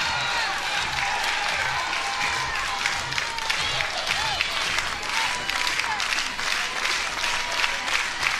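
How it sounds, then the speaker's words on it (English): A college softball crowd in Baton Rouge claps and cheers during a Florida versus LSU game, dense sustained applause with scattered shouts rising through it, loud and continuous. "Crowd into it in Baton Rouge."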